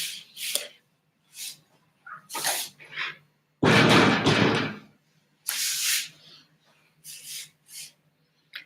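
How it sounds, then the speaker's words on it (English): A series of bumps, scrapes and clatters from a door being handled and pushed shut, including one loud, broad thump in the middle, all fairly close with no talking. "But let me shut the door."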